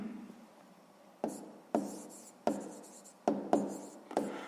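Pen strokes scratching on paper while a sixth-grade math exercise answer is written down: about six distinct, close scribbles in irregular bursts over a quiet background.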